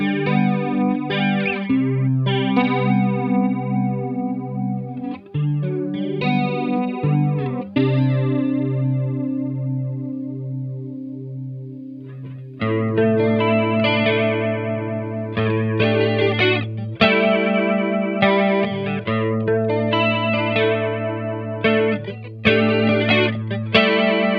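An electric guitar plays sustained chords and single notes through an EHX Deluxe Electric Mistress XO flanger pedal, giving a sweeping, swirling modulated tone with no voices.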